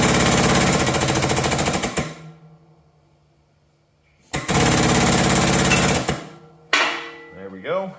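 A press pushing a bearing off a shaft from a Case bulldozer under restoration, with loud rapid hammering bursts from the powered press, a quiet pause, then another long burst and a few metallic clanks.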